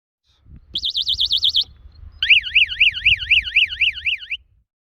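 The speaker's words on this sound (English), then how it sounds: "For demo purposes, the siren times has been set to a short period but can be extended." A VibeMo vibration-sensing tamper alarm on a property gate entrance sounds its siren: two loud, close bursts of rapidly warbling electronic tone, a shorter one and then a longer one after a brief gap, with no one talking.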